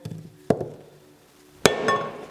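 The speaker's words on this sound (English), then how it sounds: "I'm using a wooden stump and a hide mallet so that I don't mark this" A rawhide mallet lands two sharp, solid blows on twisted metal bar resting on a wooden stump, each a loud dull thud with a brief ringing tail, spaced about a second apart.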